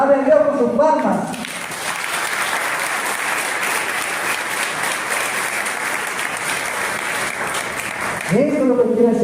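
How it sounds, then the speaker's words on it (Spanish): A church congregation bursts into sustained, loud applause in praise during a sermon, a dense wash of many hands clapping for several seconds between a preacher's spoken lines. "alabe a Dios con sus palmas"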